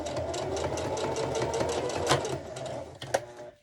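Sewing machine running steadily at a moderate speed while stitching a fabric ID holder, a continuous close-up whir with a brief louder burst near the end before it winds down.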